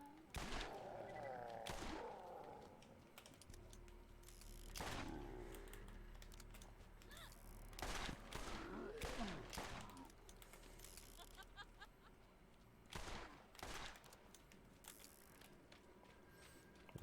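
Video game gunfire in Borderlands as zombies are shot, sharp bursts scattered irregularly across the stretch over a low rumbling game backdrop, moderately loud and close.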